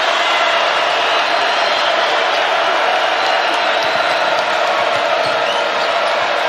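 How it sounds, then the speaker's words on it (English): Home crowd roaring at a Wake Forest vs Clemson college basketball game, a loud, dense, sustained cheer that fills the whole arena without letup, with faint ball bounces underneath. "Trying to quiet this home crowd."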